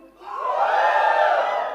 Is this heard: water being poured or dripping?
no